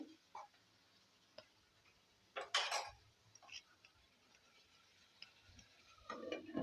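A lid set on a pot of butter beans masala gravy gives one short metallic clatter, standing out against a faint, quiet kitchen background with a few small ticks around it.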